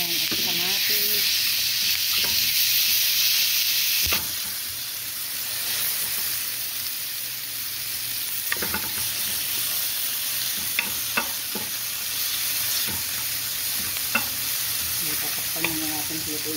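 Lamb meat frying with tomatoes in a pan gives a steady, loud sizzle throughout, with occasional clinks and stirring scrapes from a utensil.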